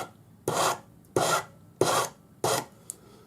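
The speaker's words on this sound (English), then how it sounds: "using the Swiss No. 2 cut flat hand file, and you can see that I'm not filing flat, I'm filing on a slight angle" Four separate rasping strokes of a Swiss No. 2 cut flat hand file on metal wire, taken at a slight angle, each stroke steady and close, with short pauses between them and no talking.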